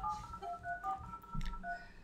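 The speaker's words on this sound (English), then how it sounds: "Dial up internet." Dial-up internet modem connecting from a laptop, with a run of steady electronic tones and tone pairs shifting every fraction of a second, fairly faint and heard alone.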